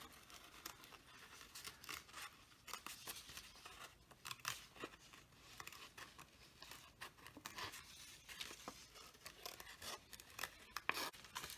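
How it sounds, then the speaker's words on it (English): Scissors snip through paper for Halloween decorations, a faint, close sequence of irregular small cuts and crinkles, quiet and without voices. "If you don't have pointed scissors, you can kind of just fold right at the mouth, snip a small spot, and then cut that out."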